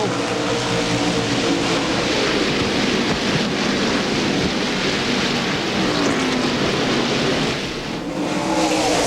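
NASCAR Busch Series stock cars racing late in the 1999 NAPA Autocare 250 at Pikes Peak International Raceway, a loud, continuous broadband engine roar that swells and dips slightly as the cars pass, with no talk.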